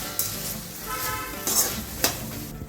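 Sabudana khichdi with sugar and salt added frying in a pan and being stirred, a soft steady sizzle broken by a few sharp scraping clinks of the spoon against the pan.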